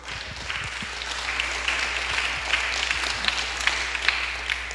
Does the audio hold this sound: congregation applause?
yes